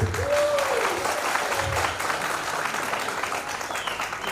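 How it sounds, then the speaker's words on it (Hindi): A crowd at a company awards ceremony breaks into steady, dense applause for Maharashtra state, loud and continuous throughout, with a few voices calling out over the clapping. "एक बार महाराष्ट्र स्टेट के लिए तालियां बजाए।"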